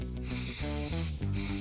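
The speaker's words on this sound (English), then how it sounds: "I spray cleaning solvent liberally" Cleaning solvent sprays liberally from an aerosol can onto disassembled semi-auto pistol parts, a loud continuous hiss in short bursts with brief gaps between them.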